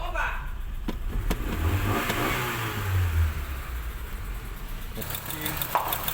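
A car engine runs steadily after a timing belt replacement, a low continuous hum with a rise in revs partway through, while someone talks over it.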